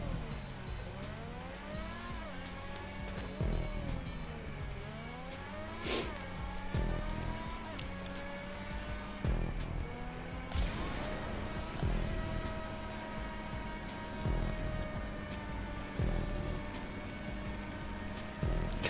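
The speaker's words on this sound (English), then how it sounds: "I hear engines." Race cars in a GTA Online circuit race revving hard, engines whining up and down through gear changes as several cars roar past in a loud continuous stream, with voices chatting over the top.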